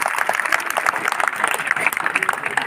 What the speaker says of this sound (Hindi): आप सबको कहता कि आप एक बार तालियां बजाएं उनके लिए